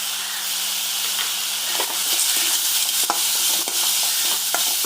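Tomatoes sizzle steadily in a hot pan while a utensil stirs and scrapes now and then, close and continuous, with no talking.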